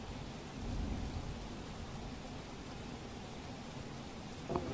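Heavy monsoon rain falls steadily in Daman after days of continuous downpour. It makes a dense, even hiss with a low rumble beneath, with a brief louder patter near the end.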